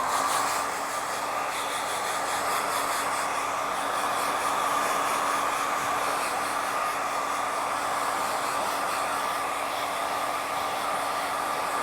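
A blow dryer blowing cut hair away after a men's haircut, a loud, steady, close rushing whoosh of air that holds constant throughout with no talk.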